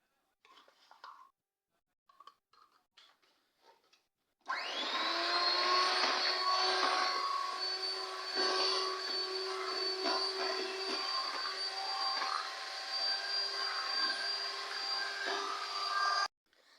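An electric hand mixer whirs into steady motion after a few soft kitchen clatters, whisking cake batter of yogurt, banana flavouring and flour with a continuous high motor whine that wavers slightly as the beaters move.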